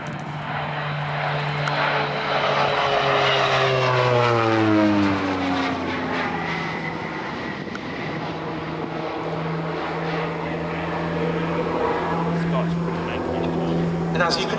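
A North American Rockwell OV-10 Bronco, the twin-propeller aircraft at a Shuttleworth race day airshow, drones loudly and steadily overhead, its propeller pitch sliding downward as it passes, with a commentator talking over it throughout.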